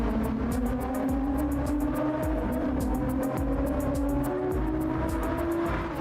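A race car in a racing video game brakes from about 145 mph and turns in, a continuous engine drone with shifting pitch, steady and fairly loud.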